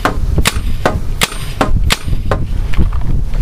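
A Spyder E-MR5 paintball marker fires on semi-automatic, about eight sharp, loud shots in a quick uneven rhythm, close by with no talk.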